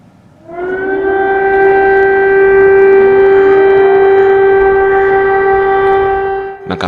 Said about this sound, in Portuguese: sirenes para chamar a atenção para ataques aéreos soaram no centro da cidade